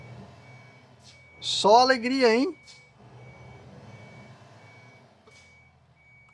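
Reversing beeps sound as an automatic truck transmission is shifted into reverse gear, a short loud warbling burst lasting about a second. Quiet engine idle runs beneath it, and someone speaks briefly.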